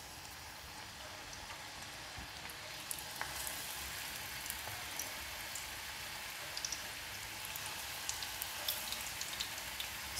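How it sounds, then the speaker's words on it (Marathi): Onion bhaji fry in hot oil over a slow flame, making a steady, soft, hissing sizzle with scattered small crackles and pops throughout. No voices. "स्लो फ्लेमवरतीच अशी भजी ही आपण सोडूया।"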